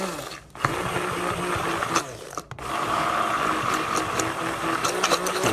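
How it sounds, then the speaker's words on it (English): An electric mixer whirring steadily as paleo mayonnaise thickens, the motor droning loud and close with brief dips and a strained tone; no talk over it. "You can hear the mixer struggling as it thickens up."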